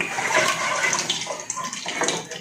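Water from cooked Indomie noodles is poured off in a kitchen, giving a continuous splashing, gushing rush with small bursts, close and fairly loud, with no talking.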